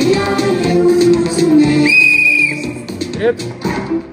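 A whistle is blown on a school film set as the cue for a take, sounding as a steady held tone of about half a second over a busy, loud background of voices and noise.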